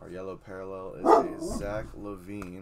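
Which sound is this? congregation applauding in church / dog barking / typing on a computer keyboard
dog barking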